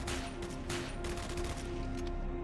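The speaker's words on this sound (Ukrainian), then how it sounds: "Дивись, максимально скоро скорострілість ППМ. Це я спамлю." Rapid automatic submachine gun fire in a video game, a dense burst of shots fired in quick succession over steady background hum.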